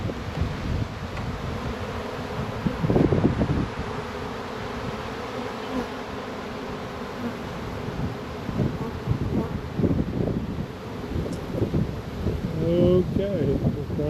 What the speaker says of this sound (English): we're trying to get the remainder of the bees off of that branch in the wind